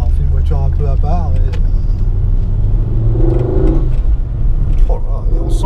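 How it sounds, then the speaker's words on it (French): A Ford Focus RS with its five-cylinder engine accelerates, a deep steady rumble and rising engine drone running loud throughout while people talk over it inside the car. "Le fameux 5 cylindres. Ça en fait une voiture un peu à part."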